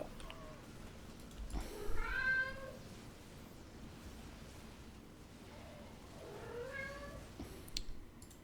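A domestic cat meows twice, each call rising and falling, the first near two seconds and the second near seven, fairly close against a quiet, hissy room background.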